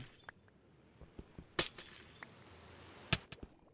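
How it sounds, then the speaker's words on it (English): Glass shattering as a pickaxe breaks it in a video game, two sharp crashing bursts about a second and a half apart, with smaller clinks and knocks scattered between them. "when glass breaks, because that glass is painful. That was me, and I broke it with a pickaxe."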